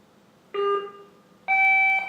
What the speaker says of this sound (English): That second beep that you heard is the unit calling me back